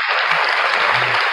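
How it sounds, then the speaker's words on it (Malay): A short round of applause, a small group clapping steadily at close range. "Kita beri tepukan sikit."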